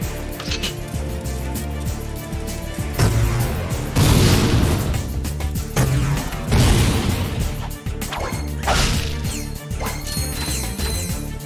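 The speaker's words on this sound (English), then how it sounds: "Try using the gravity bomb." A gravity bomb goes off in the Ratchet & Clank 2 video game, booming blasts and crashing impacts in repeated loud bursts over a dense, constant game soundtrack.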